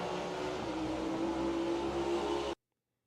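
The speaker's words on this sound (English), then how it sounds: "Yeah, just engine sound." Onboard engine roar from a NASCAR race car at North Wilkesboro, loud and sustained with a steady tone for about two and a half seconds, then cut off abruptly into silence.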